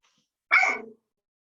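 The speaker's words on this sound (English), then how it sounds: "sorry, that's my dog." A single sharp dog bark sounds close by during an online literary festival reading at home, a brief bright yap that stands alone against near silence.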